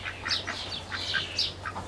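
Ducks quacking in a flock kept at home, several short nasal calls overlapping in bursts, close by and moderately loud with no talking.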